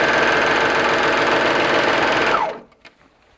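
A serger-style sewing machine stitches elastic onto a leotard with a steady, loud, rapid mechanical chatter that stops abruptly near the end, followed by a few faint clicks.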